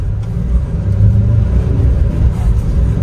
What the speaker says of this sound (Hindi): पूरे व्हील स्पिन मारती है भाई